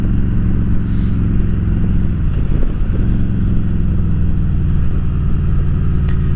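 A Harley-Davidson Road Glide, a heavy bike of about 1,000 pounds, rumbles loud and close as it is ridden hard through sharp corners on a road, its steady deep engine drone dipping briefly and then pulling again.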